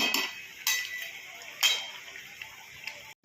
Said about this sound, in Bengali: ভালো করে কষিয়ে নিচ্ছি একটু টক দই দিয়ে আর জয়িত্রী ফল দিয়ে